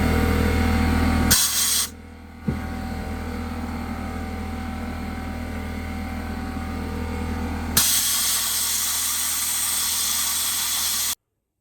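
Aerosol cleaner sprayed onto a fouled spark plug from a two-stroke Yamaha Blaster YFS200 ATV engine, heard as two steady hissing bursts, a short one near the start and a longer continuous one filling most of the clip.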